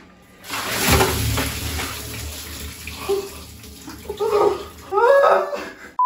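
Bucket of water thrown over a person indoors, a sudden loud splash and drench early on, followed by dripping and sloshing, with laughter and talk later.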